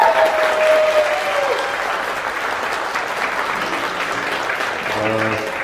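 Sustained applause from a lecture audience fills the hall, steady and loud, fading slightly as a voice begins speaking near the end.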